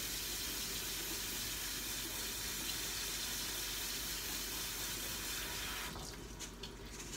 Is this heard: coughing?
no